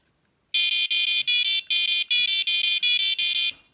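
Carp-fishing bite alarm detector sounding a rapid run of eight loud, evenly spaced high beeps, each about a quarter second, close and alone with faint handling noise beneath.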